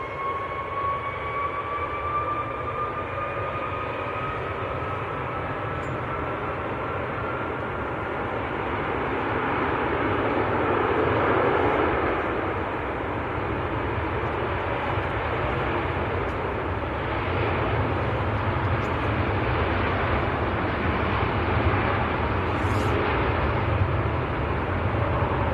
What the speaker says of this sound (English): here we go, A330 to Beijing.